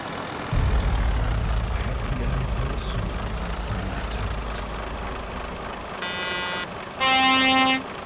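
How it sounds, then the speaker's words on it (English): A truck's air horn gives two short, loud blasts near the end, the second longer and brassier, after several seconds of a steady idling diesel engine rumble. "That's what the horn sounds like."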